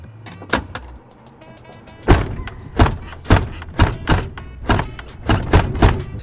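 Ford Crown Victoria Interceptor police car door with a broken hinge thumping shut over and over, a rapid series of loud, close thuds and latch clunks, about a dozen in all, several closely spaced.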